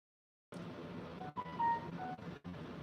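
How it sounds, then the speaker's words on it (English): A short electronic notification alert of a few soft beeping tones, heard over a steady background hum that starts abruptly after a half-second of silence. "I just heard a notification there."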